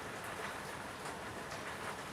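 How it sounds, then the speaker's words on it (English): Heavy rain falling outside, a dense, even hiss of drops hitting surfaces that holds steady and fairly close for the whole stretch, with no voices over it. "Listen to the rain. It's been going hard since last night."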